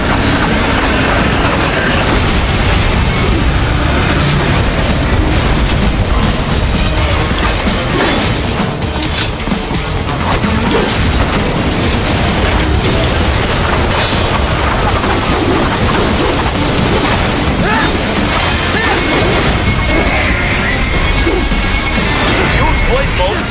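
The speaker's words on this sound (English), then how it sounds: "Catch that missile before it blows." Heavy, sustained crashing and booming from a missile fight in Metal Gear Rising: Revengeance on PS3, with dense loud impacts and explosions running continuously through the whole stretch.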